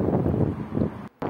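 Strong wind buffets the microphone in a dense, low roar, dropping out abruptly near the end before gusting back.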